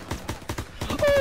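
Rapid automatic gunfire in a WW2 Call of Duty campaign battle, a quick steady burst of shots at close range followed by a sustained tone.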